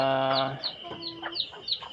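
Hens clucking nearby: a drawn-out call followed by a quick run of short, rhythmic clucks.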